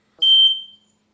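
One sharp, high-pitched electronic chirp from a smoke alarm, loud and close, fading quickly into silence.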